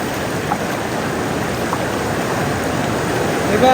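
A strong mountain stream current rushing, a loud continuous broadband roar of water that stays steady and close, with faint voices underneath near the end.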